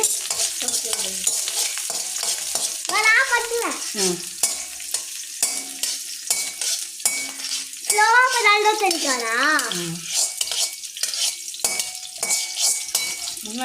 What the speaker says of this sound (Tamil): வாமிகா வதக்கிட்டு இருக்கா